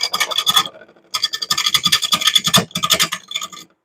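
A lathe tool rides the bevel while turning a wooden bowl, giving close, loud bursts of rough scraping and shaving in quick pulses, with a short pause between the first and second runs.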